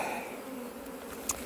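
Honey bees buzzing around an open hive during a beekeeping inspection, a steady soft hum close by.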